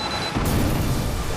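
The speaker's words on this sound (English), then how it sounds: "As the explosion tore through him" An explosion in the video game 428 Shibuya Scramble bursts in suddenly as a loud, brief low boom with a broad rushing roar that holds steady to the end of the short moment.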